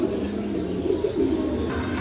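Pigeons coo in low, rolling calls, close and fairly loud over a steady background murmur, with no speech.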